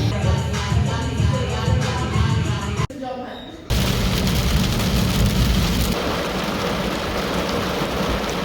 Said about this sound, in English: it looks like the rain has decided to slack